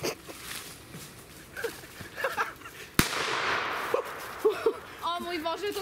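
Voices chatter, then a single sharp New Year's Eve firecracker bang cracks out mid-clip, followed by a loud, lingering burst of hiss and crackle as talk resumes.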